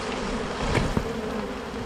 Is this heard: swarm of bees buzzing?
yes